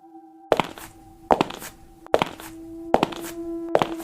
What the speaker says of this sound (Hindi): मानो पत्थर पर किसी के चलने की आवाज